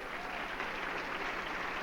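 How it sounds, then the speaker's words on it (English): A brief burst of applause from the audience at a 1979 radio convention awards banquet in Atlanta, a dense wash of clapping hands heard at moderate distance. "I think we should give them a real round of applause."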